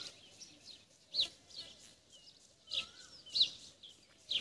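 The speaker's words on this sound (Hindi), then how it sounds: "अभी आपको पीछे चिड़िया और कोयल वगैरह की आवाज़ आ रही होगी" Birds chirp in short bright bursts, including a koel, amid trees beside farm fields; the calls come and go in a quiet outdoor setting with faint background noise.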